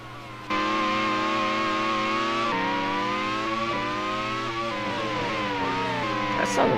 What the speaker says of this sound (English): That sounded weird from the engine, was that just me?